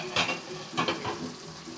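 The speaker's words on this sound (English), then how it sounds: "Simmering away nicely." Sauce simmers in an open pot, a soft bubbling hiss punctuated by a couple of brief stirring scrapes, close and fairly quiet.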